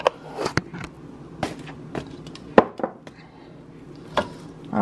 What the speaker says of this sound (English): Sorry about the banging. My pink Himalayan salt tends to clump.